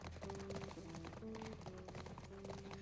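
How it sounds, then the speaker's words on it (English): Rhythmic hoof clip-clops of a galloping horse in The Last of Us Part I, steady and continuous, over a low game backdrop with tonal music notes. "I almost forgot that you get to ride a horse."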